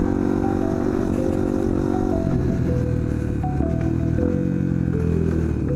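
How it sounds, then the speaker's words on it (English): Sport bike motorcycle engine heard while riding, a steady droning hum with shifting pitch as the rider changes speed, continuous and close with wind rumble underneath. "I'm gonna do one last ride on the sport bike"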